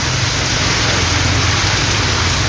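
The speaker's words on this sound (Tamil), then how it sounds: "திருவாரூர் மாவட்டத்தில் 2வது நாளாக கனமழை பெய்தது." Heavy rain falls in Tiruvarur district as a loud, dense, unbroken hiss of a downpour that fills the whole stretch, with no voices.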